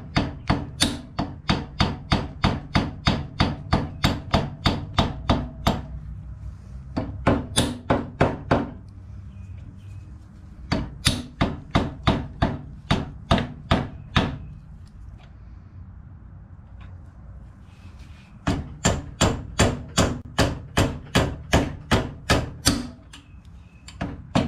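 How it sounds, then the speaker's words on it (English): A rubber mallet pounds on a wrench to break loose a seized brake bolt, producing fast runs of loud, evenly spaced knocks in several bursts separated by short pauses, close up and without talk. "after whacking on it with the rubber mallet for about a minute"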